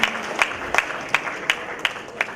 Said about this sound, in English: Everybody give her a round of applause for her passion and devotion.